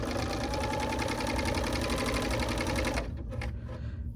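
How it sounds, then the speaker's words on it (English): Overlock machine running a 4-thread overlock stitch on a blouse seam, a fast continuous mechanical whirr close up that stops abruptly near the end. "Now I'm doing a 4-thread overlock stitch"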